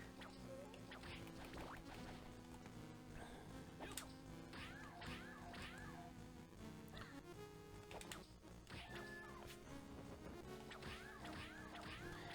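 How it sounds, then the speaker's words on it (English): Repeated whip cracks hit siren enemies in the video game Castlevania: Harmony of Dissonance, each answered by a short yelp, all mixed into busy, continuous game music. "I don't like how distinctly you can hear the siren say "ow" each time you whip them."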